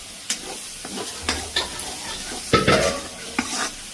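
Chicken kottu roti sautéing in a pan, with metal utensils scraping and clattering against it in irregular strokes over a soft sizzle, close and alone.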